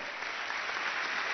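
Audience at a student engineering project presentation applauds in a brief, even burst of clapping heard at a distance.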